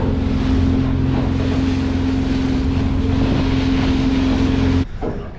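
A fishing boat's engine runs in reverse offshore, giving a steady, loud low hum under wind and water noise that cuts off sharply near the end.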